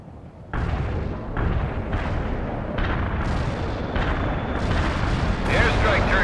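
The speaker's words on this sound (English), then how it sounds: "Artillery barrage inbound." Artillery barrage in the war video game World in Conflict: a continuous, dense stream of booming blasts and rumbling detonations, loud and close, swelling in steps over several seconds with game voices and radio chatter mixed in.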